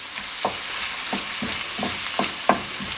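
Mince with onions and peppers for a lasagne sizzles in a pan as a utensil keeps pushing it around, a low constant fry with regular scraping strokes about every half second, close up and quiet.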